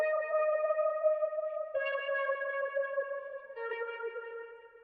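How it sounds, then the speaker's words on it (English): Guitar loop from Arcade in a chill lo-fi arrangement: clean sustained melodic notes with echo and a gentle wobble, shifting pitch a few times, mid-level and alone without talking. "I added some more guitar loops throughout."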